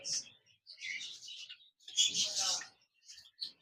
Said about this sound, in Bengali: হোয়াইট জাবা পাখি রয়েছে